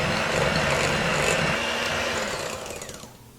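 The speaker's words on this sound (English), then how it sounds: "electric hand mixer and I'm just going to blend this together until it's nice and smooth" An electric hand mixer whirs steadily, blending cream cheese icing in a bowl for cinnamon rolls, with a loud continuous motor drone close up that fades and slows near the end.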